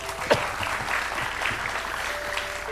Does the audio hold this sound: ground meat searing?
no